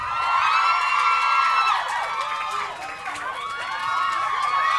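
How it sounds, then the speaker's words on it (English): A studio audience cheers and whoops at a television interview, a steady, loud wash of crowd noise with shrill, rising shouts scattered through it, and no break for the whole stretch. "Keep cheering and whooping and so on because it makes them feel welcome."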